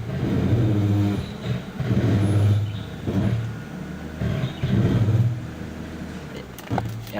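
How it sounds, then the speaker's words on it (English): An automatic car's engine revs up and down with the brake held and the throttle eased on to prepare a burnout, loud repeated surges of a few seconds each, close by with no talking. "the right feet slightly on the gas. Raises the RPM slowly."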